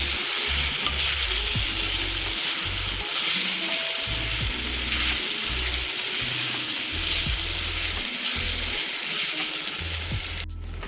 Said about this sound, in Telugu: నూనెలో బాగా వేగాలి